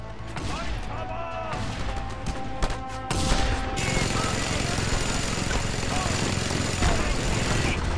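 Gunfire in Just Cause 2 crackles in rapid bursts, dense and loud, with engine drone and other game noise behind it, intensifying into a continuous barrage in the second half.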